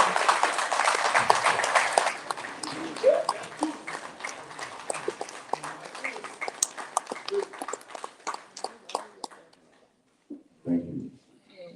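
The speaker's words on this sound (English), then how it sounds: "Please rise and give a round of applause." An awards dinner crowd applauding at a fundraising banquet, loud dense clapping at first that thins into scattered claps and fades out, followed by a brief voice.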